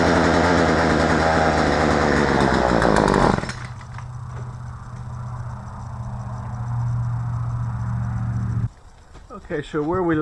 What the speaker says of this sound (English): we got this saw running